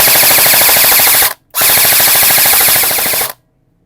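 An HFC AEG airsoft rifle fires on full auto in two rapid bursts, the first lasting about a second and the second about two, separated by a brief pause. The shots are loud and close, with no talking.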